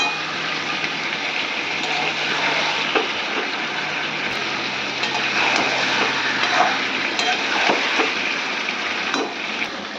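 Curry sautéed (kosha) in a pan, a continuous broad sizzle with occasional scraping stirs, steady and fairly close, no one speaking.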